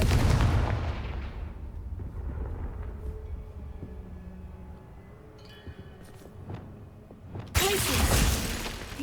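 Confringo fire spells go off in Hogwarts Legacy: a loud booming blast rolls out and fades into faint crackles and clinks, then a second sharp burst erupts near the end.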